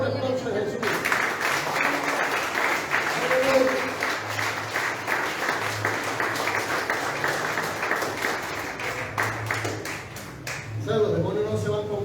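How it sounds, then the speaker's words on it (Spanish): Church congregation clapping loudly and steadily in a sustained round of applause, with voices underneath and a brief drop near the end before the clapping picks back up. "Dale un fuerte aplauso a Jesús"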